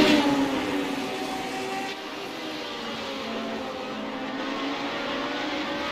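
Several Radical SR8 race cars fight for position at Watkins Glen. Their engines make a loud sustained roar that drops in pitch as a car passes, then settles into a steady drone.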